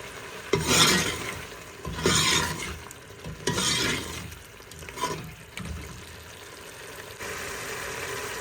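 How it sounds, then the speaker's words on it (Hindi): Meat sizzling in oil with ginger in a pot while making shalgam gosht, turnip and mutton curry, with loud bursts of frying and stirring scrapes recurring every second or so, close and without talk. "तो उसके साथ बुनाई कर रहे हैं हम इसकी"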